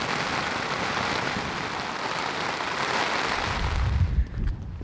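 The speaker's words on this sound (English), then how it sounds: "Suddenly started pouring with rain." Heavy rain pours down in a dense, constant hiss on the South West Coast Path in Cornwall, loud and unbroken, with a brief rustle near the end.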